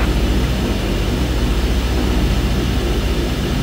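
Twin propeller engines of a de Havilland Twin Otter in Microsoft Flight Simulator give a loud, steady, dense droning hum that holds evenly throughout without variation or talking.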